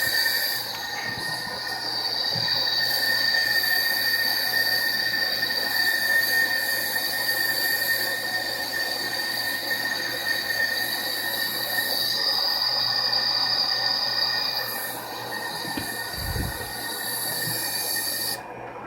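Inductors in a homemade Mk2 high-current voltage regulator whine with a steady high-pitched electrical squeal, continuous and fairly loud for the whole stretch with a faint low hum beneath and no voices.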